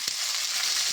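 Okra (bhindi) frying in oil in a pan, a steady bright sizzle throughout with one faint clink of a utensil near the start.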